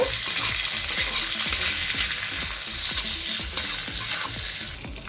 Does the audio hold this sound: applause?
no